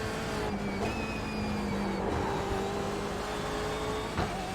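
A BMW M8 race car at Brands Hatch in iRacing holds a steady, moderately loud engine drone, its pitch rising and falling through gear changes, with no talking over it.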